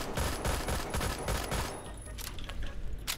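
Dense gunfire in the shooter game Phantom Forces, a burst of rapid, loud shots that thins into scattered single taps and distant pops.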